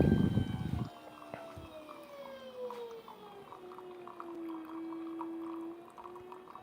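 An espresso machine pushes water through a shot with a steady pump whine that slowly falls in pitch, over a faint trickle of liquid, following a brief burst of noise at the start.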